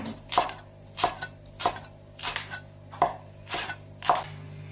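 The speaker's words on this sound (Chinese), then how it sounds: "姜给它切成片， 切成马蹄片" A knife cuts ginger into slices on a cutting board, giving six crisp, evenly spaced chops about half a second apart, close and clear over a faint steady background hum.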